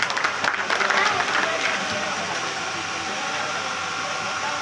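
A crowd welcoming a Hind Aman Party figure in Dayalpur, Delhi bursts into loud clapping for about two seconds, which then fades into a steady crowd hum and background noise.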